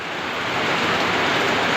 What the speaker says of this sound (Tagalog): maririnig mo yung bugsuan ng hangin at ulan guys